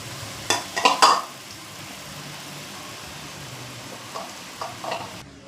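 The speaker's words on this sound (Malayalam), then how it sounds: "അപ്പോൾ വെജിറ്റബിൾസൊക്കെ ഞാൻ ഇട്ട് കൊടുക്കുകയാണ്." Vegetables tossed into a hot pan for salted sautéing give a few loud stirring clatters and sizzles near the start, then settle into a soft steady frying hiss with occasional light scrapes.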